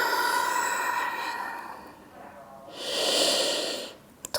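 A voice speaks briefly at the start, then a long, breathy exhale comes during a yoga flow, steady and fairly close, before fading out.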